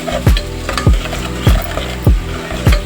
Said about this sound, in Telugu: తర్వాత వన్ స్పూన్ అల్లం పేస్ట్ వేసుకొని కలుపుకోవాలి దొరగా అయ్యే వరకు కలుపుతూ ఉండాలి